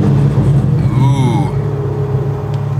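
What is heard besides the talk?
BMW M4 GT4 race car engine starting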